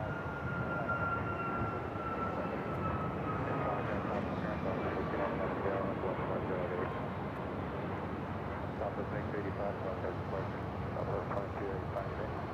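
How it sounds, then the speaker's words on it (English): An American Airlines Boeing 737 MAX 8 jet departing Phoenix for Cancun, a moderate, steady engine rumble heard from some distance, with a faint whine drifting lower and someone talking over it. "Up next, the flight heading to Cancun, American Airlines Flight 515, a 737 at MAX 8."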